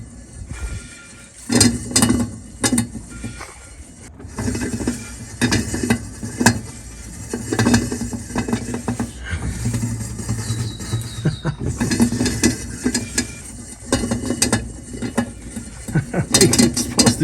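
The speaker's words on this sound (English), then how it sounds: "I hear a funny noise, and I thought it was something in this drum brake over here on the passenger side." A 1965 Chevrolet Nova's passenger-side rear drum brake is spun by hand, producing repeated scraping, clicking and rattling mechanical sounds in irregular bursts, close up, with faint background noise.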